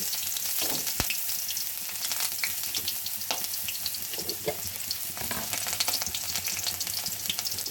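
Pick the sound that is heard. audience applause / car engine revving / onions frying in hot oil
onions frying in hot oil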